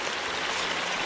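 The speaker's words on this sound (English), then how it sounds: "Babbling Creek, beautiful rhododendron" A babbling creek flows steadily through a spring forest of rhododendron and moss-covered rocks in the Pennsylvania wilderness, a soft, continuous wash of water with no voices.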